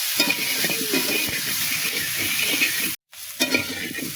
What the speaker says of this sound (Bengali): পেঁয়াজ আলু দিয়ে ভালো করে ভেজে নিলাম